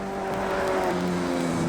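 A race car engine in a sim racing video game holds a loud, steady tonal whine, pitch shifting slightly downward partway through this brief moment.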